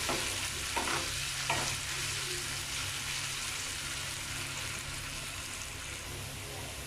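Diced potatoes for an omelette frying and being stirred in a pan, a steady loud sizzle throughout with a few scraping stir strokes near the start.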